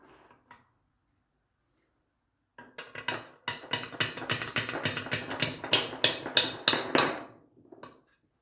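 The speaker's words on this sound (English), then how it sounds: "I need to tap it out a bit." Series of about a dozen sharp metallic hammer taps in a steady rhythm, knocking out a part during a Triumph TR6 gearbox rebuild, close and clear after a quiet pause.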